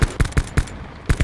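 Rapid bursts of gunfire from Call of Duty: Black Ops 4 Blackout, about seven sharp loud shots in an uneven rhythm with a brief pause before the last pair.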